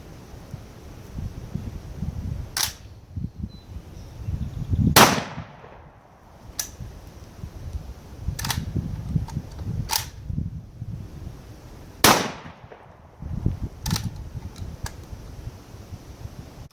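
A semi-automatic shotgun fires double-aught buckshot and number 8 shot outdoors, about eight sharp, loud reports spaced a second or two apart over a low background rumble.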